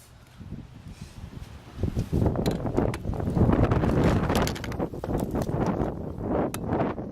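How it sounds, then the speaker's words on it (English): Steady gusty wind buffeting a nearby microphone outdoors during brake work on a 2007 Kia Rio, building after a quieter start and roaring on with broadband rumble and flutter. "It's very windy today."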